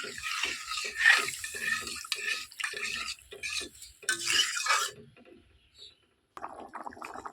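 Water splashes and trickles into a cooking pot in a home kitchen, with broad pouring bursts in the first five seconds, then fading to quieter dribbles and faint handling noise.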